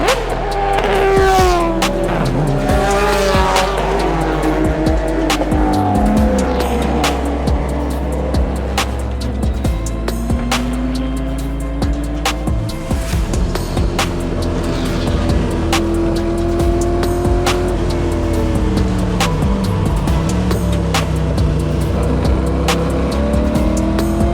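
Classic race cars at the Le Mans Classic roar past one after another, engines revving and shifting through gears, loud and continuous with rising and falling pitch.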